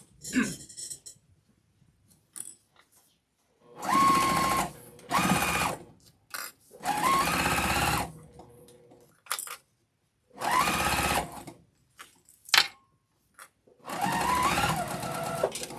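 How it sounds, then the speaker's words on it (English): A sewing machine stitches along the edge of fabric at a 2.5 stitch length, running in several steady bursts of one to two seconds separated by quiet pauses. "I'm just going to stitch this right along the edge"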